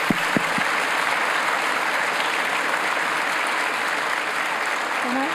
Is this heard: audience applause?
yes